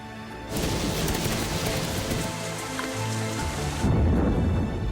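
Heavy rain pours down on Amazon rainforest in a dense, steady hiss, swelling louder toward the end with a low rumble beneath.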